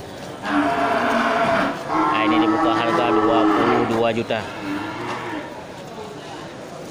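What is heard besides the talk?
cattle mooing at a livestock market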